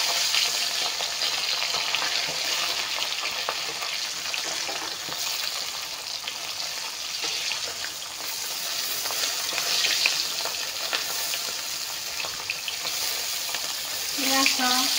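Pieces of fish fry in hot oil in a pan for a Bengali-style gourd and fish dish, giving a steady, close sizzle and crackle with occasional stirring and faint utensil clinks.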